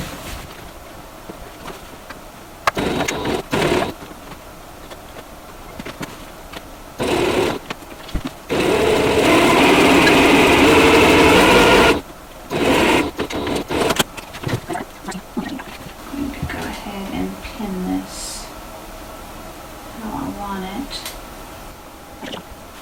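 A sewing machine stitches along the top edge of a fabric apron in several close runs, with one long continuous whir in the middle and shorter bursts around it, while a person talks between runs.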